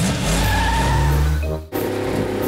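A cartoon car from Peppa Pig revs steadily in a sustained engine drone and then lurches off with a sudden break and a fresh burst of motor noise, loud and close.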